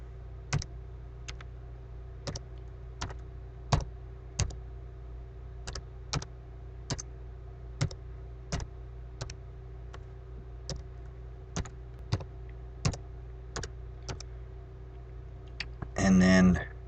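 A username and password are being typed on a computer keyboard, producing a steady run of sharp, evenly spaced clicks close to the microphone, ending in a quick flurry of keystrokes.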